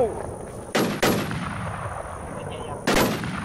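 Sniper rifle shots in the WarZ video game, three sharp loud cracks: two close together early, then a third a couple of seconds later, over a steady game background.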